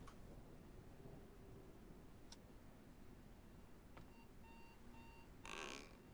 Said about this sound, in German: Der Wecker. Der Einschlafwecker.